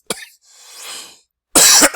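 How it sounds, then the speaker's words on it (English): A person coughs sharply at close range: a short cough, a quieter breathy exhale, then a loud harsh cough, with no speech. "excuse my coughing"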